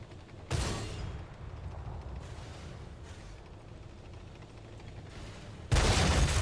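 Video game gunfire as an Astron Rex's magazine is emptied into a T-92 tank, heard as a long run of rapid distant shots with louder bursts at the start and end, no voices.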